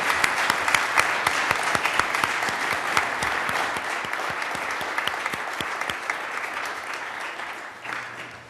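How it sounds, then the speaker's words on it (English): A large audience at a Cambridge, Massachusetts State of the City address gives sustained applause honoring the city manager's long service, a thick, continuous wash of clapping with sharp individual claps near the front that gradually softens. "I ask you to join me in another round of applause to recognize his nearly half-century of service"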